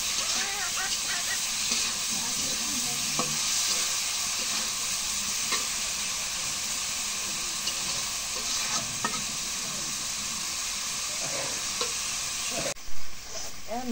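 Potatoes and greens frying in a pan, a steady close sizzle broken by scrapes and clinks of stirring, with a brief louder knock near the end.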